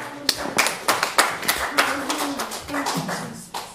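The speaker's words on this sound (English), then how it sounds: "Let's give her a round of applause." A church congregation claps for a woman pastor, a loose run of individual hand claps with a voice talking and singing over them, moderately loud throughout.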